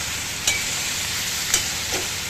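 Potatoes, garlic, ginger and broken red chilies sauté in oil for masale bhat, a constant close hiss broken by three brief scraping stirs, with no voices.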